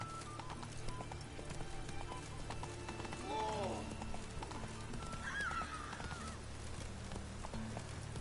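Roach the horse from The Witcher gallops with steady clip-clop hoofbeats in the foreground, and a couple of whinnies rise over the running rhythm with a faint background of game ambience.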